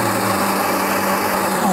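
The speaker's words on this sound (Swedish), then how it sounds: "Så startar man mixern." A blender motor whirs at high speed, a loud steady whine running throughout, with a slight pitch shift at the very end.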